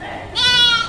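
Goat bleating at a livestock market, a single sustained quavering bleat that rises partway through and holds for about half a second, close and loud over faint background murmur.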